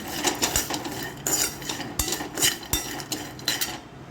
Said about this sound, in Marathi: आपण पिस्ता पण परतून घेऊया तुपामध्ये